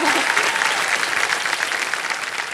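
Steady, thick clapping from a studio audience fills a Kaun Banega Crorepati Season 16 game show set, holding at a loud, uniform level throughout and heard alone.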